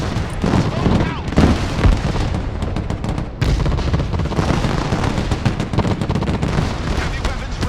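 Dense, continuous gunfire and booming explosions from a Broken Arrow battlefield, rapid machine-gun bursts layered with heavy blasts and artillery rumble, loud and unrelenting throughout.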